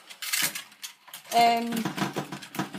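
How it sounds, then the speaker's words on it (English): Rapid clattering and rattling of degus running on an exercise wheel in their cage, a busy repetitive plastic-and-metal racket close by, with a brief high squeak. "The noises you're hearing is them on a wheel."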